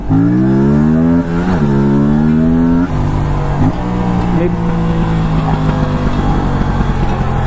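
An Aprilia RS 457 motorcycle in stock form, its engine droning loudly and rising and falling in pitch as it revs, with a few sharp exhaust pops breaking through near and clear, while someone talks over it.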